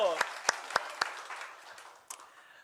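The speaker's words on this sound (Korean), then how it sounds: "하나님께 영광의 박수 올려드리겠습니다." A church congregation at a Sunday worship service gives a short round of applause, heard as a few sharp, evenly spaced claps ringing in a reverberant sanctuary, followed by one last isolated clap.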